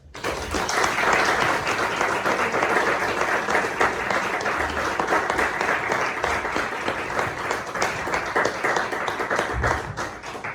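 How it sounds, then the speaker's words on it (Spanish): A strong burst of audience applause welcomes the poet Teresa Garbí, dense, sustained clapping from a crowd that holds steady for about ten seconds with no voices over it. "os voy a pedir un fuerte aplauso"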